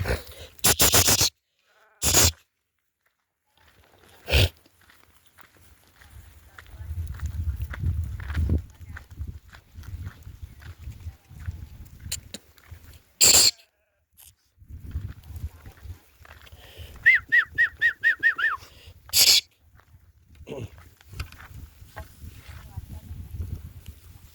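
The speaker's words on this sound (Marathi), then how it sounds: "तर बघा चरतात अशा मेंढ्या" A flock of grazing sheep near a construction site, a few short sharp bleats scattered between stretches of shuffling, footsteps and low rustling, with someone talking at times.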